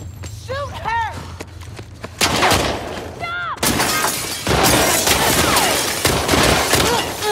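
Gunfire and shattering impacts from the video game The Last of Us Part II during a chase, loud bursts and crashes filling the second half, with shouting voices over them.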